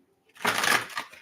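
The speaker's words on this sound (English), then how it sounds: "one more shuffle." Tarot cards being shuffled in a single quick riffling burst lasting under a second, close and fairly soft, with a brief crisp flutter as the deck settles.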